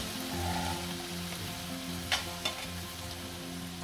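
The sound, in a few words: frying and stirring chicken syafale filling with salt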